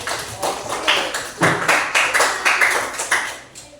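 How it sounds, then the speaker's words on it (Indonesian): Classroom clapping for a student, a small group striking hands in a loose rhythmic series of close, sharp bursts, roughly a dozen claps spread evenly over a few seconds. "Kan tepuk tangan buat KA-nya."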